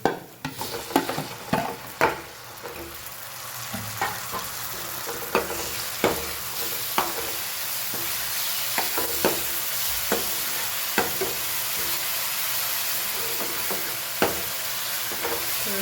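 Chopped tomato frying in a pan for pav bhaji, a steady close sizzle and hiss with sharp clinks and scrapes of a spoon stirring at irregular intervals throughout.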